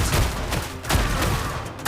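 Rapid gunfire in a shooter video game, dense overlapping shots crackling in close, loud bursts with no pause.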